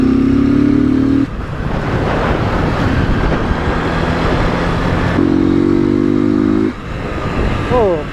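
A motorcycle engine revs hard and loud near the mic as the rider lifts into a wheelie over a street speed bump, with steady harmonic engine tones, a roaring middle stretch, a second rev and wind buffeting throughout.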